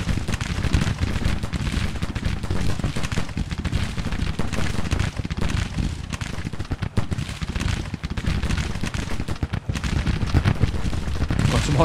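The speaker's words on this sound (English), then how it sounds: "Artillery fire going straight in." Cannon fire and musketry roll continuously in an American Civil War battle game, loud dense booms and crackling volleys overlapping without pause, an unbroken wall of distant and near gunfire.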